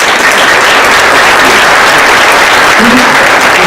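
An audience gives loud, dense, continuous applause for an award recipient at a Women's History Month event in Monterey County, close by and filling the whole moment.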